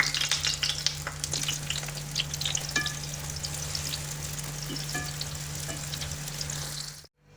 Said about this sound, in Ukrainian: Жаримо біляші на середньому вогні.